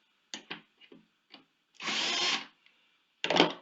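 A power drill bores pilot holes while a soft-close undermount drawer slide is mounted, with several short whirring bursts, one longer sustained run near the middle and a final burst, close and alone.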